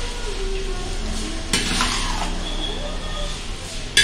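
Onions being sautéed in a large pot for kuska cooked for seventy people: a low, continuous frying hiss with a sharp metallic clank partway through and another near the end, close by.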